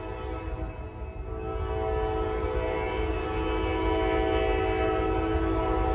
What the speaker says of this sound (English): Alright, northbound. Empty grain train, 51G.